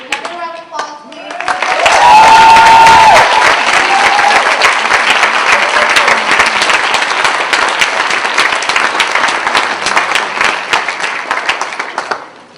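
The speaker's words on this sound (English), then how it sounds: "Another round of applause, please." An audience at a youth performance breaks into loud, sustained applause, dense clapping from many hands that swells quickly and holds for about ten seconds, with a voice speaking briefly just before it starts.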